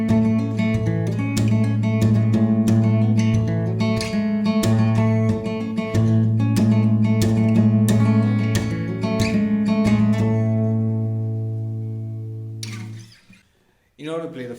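Guitar in open G tuning with no capo plays the opening bar of a song: steady plucked notes ring over a sustained low drone, then the playing fades and stops near the end.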